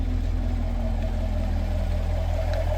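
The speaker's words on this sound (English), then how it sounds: "Just the engine running." A Chevrolet Camaro SS V8 engine idles with a steady, even low rumble and a constant hum that holds unchanged throughout, with no revving and no talking.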